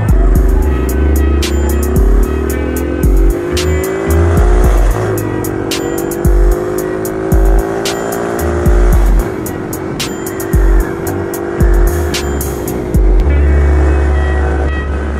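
A Trail 70 (CT70 clone) minibike ridden fast on a street, its small engine buzzing loud and close with rising and falling revs, rhythmic gear changes and rushing wind noise throughout.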